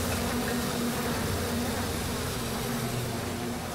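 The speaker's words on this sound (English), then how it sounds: "Go away, bees." A swarm of bees drones in the game Bioshock, a dense, continuous buzzing hum that stays loud and close throughout with no speech over it.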